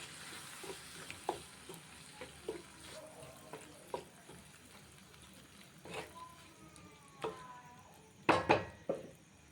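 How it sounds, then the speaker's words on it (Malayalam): Quiet, intermittent scraping and clacking of a spoon stirring an anchovy fish curry (netholi peera) in a pan, just after tamarind juice goes in, with a few sharper knocks near the end. "എന്നിട്ട് നല്ലവണ്ണം ഒന്ന് ഇളക്കി കൊടുക്കുക."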